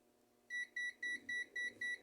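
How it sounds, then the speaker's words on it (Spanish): A multimeter sounds its overvoltage alarm while testing an LC circuit: a rapid series of six evenly spaced, clear electronic beeps starts after a quiet half second and repeats steadily over a faint background hum. "Ahí vemos que el tester se activa la alarma"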